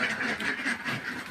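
A group of ducks near their coop quacks repeatedly, short nasal calls overlapping in a brisk, fairly close chorus with no speech.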